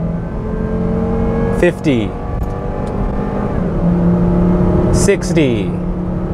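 A high-mileage Volvo XC90 2.5T accelerating at full throttle, its engine drone climbing in pitch with two gear shifts, heard from inside the cabin while someone briefly speaks.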